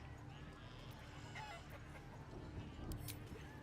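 A chicken in the video game Baldur's Gate 3 clucks in scattered short calls over soft background ambience, fairly faint and unhurried.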